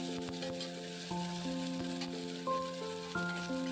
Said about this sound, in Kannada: ಇಲ್ಲಿ ಒಂದು ಸ್ವಲ್ಪ ಈರುಳ್ಳಿ ಹಾಕಿ ಚೆನ್ನಾಗಿ ಅದು ಫ್ರೈ ಮಾಡ್ಕೊತಾ ಇದ್ದೀನಿ